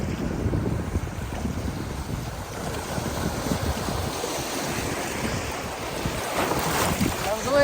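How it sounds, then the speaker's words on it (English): High-water river waves wash and slosh around a kayak during cold-weather whitewater fishing in North Georgia, a continuous broadband churn close to the boat, overlaid by gusting wind buffeting the microphone. "That was a wave."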